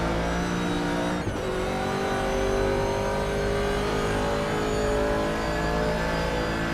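Vintage Trans Am race cars, led by a 1970 Ford Mustang Boss, roar around Castle Combe circuit, a loud continuous engine drone with steady revving and a brief dip near the start, no voices.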